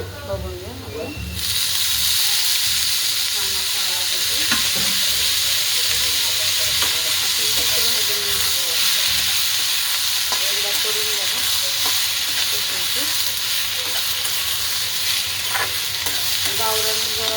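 Cluster beans sizzling and frying in hot oil in a pan, a steady loud hiss that rises sharply after a brief quieter start and carries on throughout, with occasional clinks of stirring.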